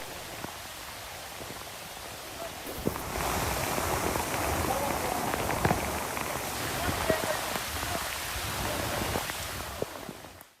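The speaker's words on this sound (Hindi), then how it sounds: "ऑस्ट्रिया में मूसलाधार बारिश और बाढ़ से इस वक्त जूझ रहा है" Torrential rain during flooding in Austria, a dense steady roar of downpour on surfaces that swells louder partway through, with scattered sharper drops and patter; a voice speaks over it.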